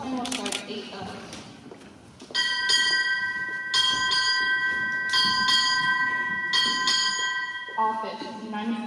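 Eight strokes of a ship's bell sound at a naval ceremony, rung in spaced pairs with bright sustained ringing, following a brief announcement voice and ending as talk resumes.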